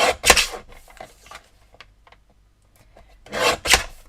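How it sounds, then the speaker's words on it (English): Paper trimmer slicing a single sheet of pink cardstock for a Christmas card, giving two loud rasping cutting strokes, one at the start and one at the end, with faint scraping and handling noises between them. "my trimmer isn't liking when I cut 2 pieces at a time, so I'm going to cut 1 at a time"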